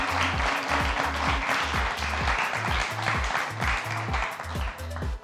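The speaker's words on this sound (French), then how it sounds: "Je vous demande d'applaudir Churchill, Wendy, Joseph." Crowd applause at a youth talent launch event, steady dense clapping from an audience running throughout, with a rhythmic bass-heavy music beat pulsing underneath.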